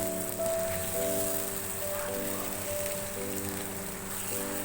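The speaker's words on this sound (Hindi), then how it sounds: "हाई फ्लेम पे भून रही हूँ। लहसुन अदरक के साथ मैंने चिकन को अच्छी तरह से भून लिया है।" Chicken frying with garlic ginger paste in a pan over a high flame, a constant dense sizzle and crackle with a steady hum underneath throughout.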